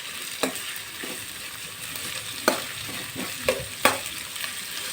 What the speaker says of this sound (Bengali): এখন আমি গাজর আর ক্যাপসিকামটা হালকা অল্প নাড়িয়ে নেব।